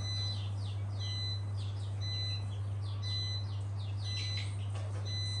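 Newly hatched turtle dove chicks give thin, high little cries in short repeated chirps during feeding, faint and close over a constant low electrical hum.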